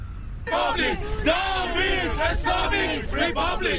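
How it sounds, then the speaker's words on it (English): A large protest crowd in Westwood chants and yells loudly against the Islamic Republic, voices massed and sustained with rhythmic surges, close and filling the space. "Chants against the Islamic Republic Sunday echoing in Westwood."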